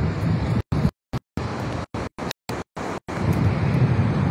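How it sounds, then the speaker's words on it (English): Strong outdoor wind buffets the microphone with a heavy low roar, broken by several abrupt cut-outs of near-silence before the rumble returns in full. "It's very windy today."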